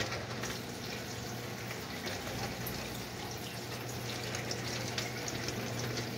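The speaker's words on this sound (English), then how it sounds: "it's starting to drain the water out from its normal cycle" A dishwasher draining at the end of its normal cycle after excess soap, its pump running with a constant hum beneath rushing, gushing water, close and steady throughout.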